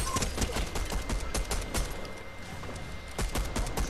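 Rapid bursts of gunfire fired at a gas can in the video game Fortnite, as a dense, continuous rattle of close shots with no pause across the whole stretch.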